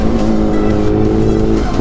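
A Kawasaki ZX10R motorcycle engine roars loudly and close, a sustained high-revving tone held steady for a moment with no voices.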